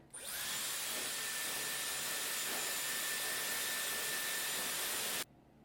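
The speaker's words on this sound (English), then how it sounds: "we're just gonna start by drying the hair" A Dyson Airwrap dries hair with a steady, loud blowing whoosh and a thin high whine, starting abruptly and running evenly for about five seconds before cutting off.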